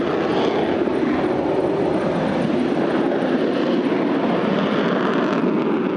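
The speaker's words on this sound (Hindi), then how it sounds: "रात के अंधेरे में टर्बो इंजन की यह आवाज मीलों दूर तक" Sukhoi fighter jet turbo engine roaring at night, a steady, loud, broadband roar holding constant throughout with no voices.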